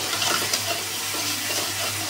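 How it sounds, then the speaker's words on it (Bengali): Spice paste (masala) frying in oil in a pan while being stirred, a steady close sizzle with soft scraping strokes, part of a home-style okra (dherosh) dish. "এই মশলাটা ভাজা ভাজা ভাজা ভাজা হয়ে গেছে"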